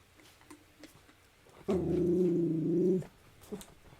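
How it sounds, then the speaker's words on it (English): A dog lets out one sustained, low growl lasting about a second and a half, close and fairly loud against quiet room background, with a few faint knocks before and after. "Dog's going crazy again."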